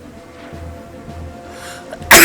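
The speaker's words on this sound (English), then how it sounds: "that sneeze coming on, I can feel it." A single loud, close sneeze bursts out at the end after a couple of seconds of quiet breathing and low background murmur.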